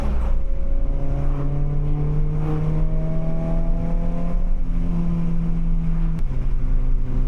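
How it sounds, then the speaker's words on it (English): A car engine drones steadily from inside the cabin with the windows down. The note climbs and shifts as it accelerates and changes gear, and wind and road rumble sit underneath. "I can hear the car more."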